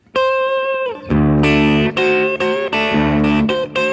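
Distorted electric guitar plays a sustained note, then repeated two-note flat-seventh interval chords ring out with a gritty, buzzy tone.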